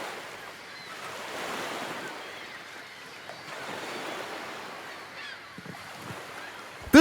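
Salty sea waves wash and surge in a steady, moderately loud roar with gusty wind noise, swelling and easing in long swells, no voices present.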